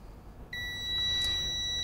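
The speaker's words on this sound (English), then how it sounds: "And as you can hear, you have a tone. That means you have a closed circuit." A multimeter's continuity test tone sounds when a closed circuit is found at a battery monitor, a steady high-pitched electronic beep that starts suddenly and holds for over a second, close and clear with no talk.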